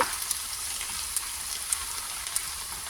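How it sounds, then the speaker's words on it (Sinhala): Ginger garlic paste fries in oil over very low heat, giving a soft, continuous hiss with scattered tiny pops and crackles, steady and close, with no talking. "ඊට පස්සේ තෙල් එකටම ඉඟුරු සුදුරුණු paste එක දාලා ඒකත් අඩුම ගින්දරේ රන්වන් පාට වෙනකම් බෙද ගන්න ඕන."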